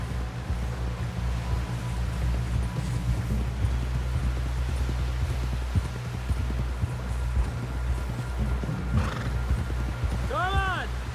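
In the video game Red Dead Redemption 2, horse hooves clip-clop steadily beneath a low droning rumble as a horse gallops, with a horse neighing near the end.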